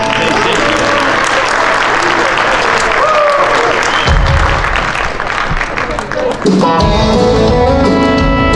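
Audience applause for a band at a live show, loud crowd clapping and cheering that carries on as music and a voice come in over it.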